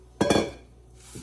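Chuck roast meat and onions are dropped into a large bowl for pressure canning, making a brief clatter and clink of kitchen dishware followed by quiet.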